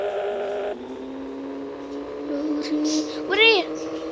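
In the Pixel Car Race video game, a Toyota car engine drones with a steady synthetic tone that steps up through gear shifts, then a sweeping rev whooshes past near the end, with a voice speaking over it.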